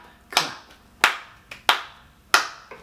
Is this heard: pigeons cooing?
no